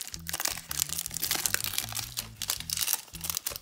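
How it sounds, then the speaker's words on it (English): Cellophane wrappers on 1983 Donruss baseball card packs crinkle and crackle softly in close, continuous handling, with irregular crisp bursts throughout. "each one of these are individually wrapped in cellophane"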